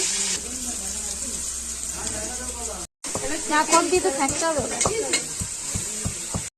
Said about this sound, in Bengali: বেরেস্তা করে নেওয়া হচ্ছে।